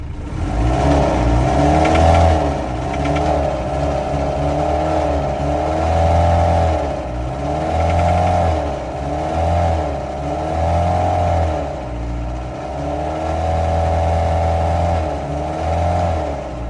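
A Mitsubishi Strada 2800 pickup engine is revved repeatedly, each rise and fall of roughly two seconds, loud and close, with a rough idle rumble between revs.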